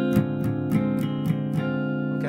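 An electric guitar plays a D half-diminished chord, struck five or six times in an even rhythm with each strum ringing out, clear and solo with no talking.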